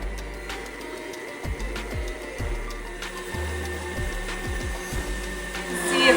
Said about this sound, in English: We'll put our whisk attachment on. And we're going to start whipping this together on medium speed